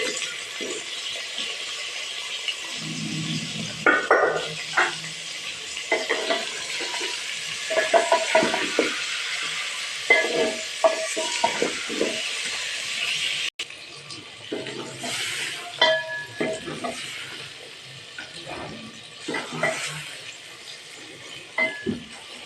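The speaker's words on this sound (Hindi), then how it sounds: "आलू फ्राई बैंगन फ्राई करेंगे।" Potatoes and eggplant fry in a pan with a steady sizzle, broken by repeated clinks and scrapes of a utensil stirring and turning them, and a brief voice now and then.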